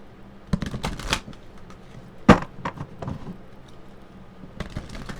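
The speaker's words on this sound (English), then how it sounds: "I shuffle all of my decks differently." Tarot cards being shuffled in short riffling bursts with a sharp slap near the middle, close and fairly quiet, no talking.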